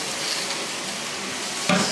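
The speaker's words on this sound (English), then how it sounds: "So I'm just going to let this cook for a few minutes." Salted steaks cook on a grill plate with a loud, continuous hiss of sizzling fat that holds steady throughout. Near the end a brief metallic clink sounds over it.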